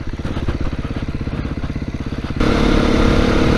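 2022 Beta 430 RR-S dirt bike ridden off-road on a trail track, its engine loud and close with a rapid pulsing throb that jumps into a harder, denser roar partway through.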